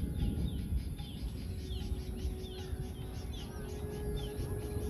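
Birds calling outdoors in the Himachal hills near Nurpur, with several faint chirps and short whistled notes scattered over steady wind and low rumble.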